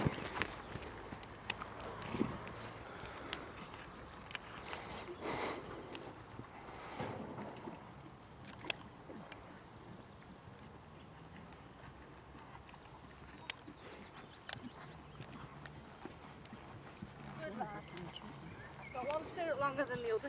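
A horse ridden at a walk gives a steady, fairly quiet clip-clop of hooves that runs throughout, with people talking over it.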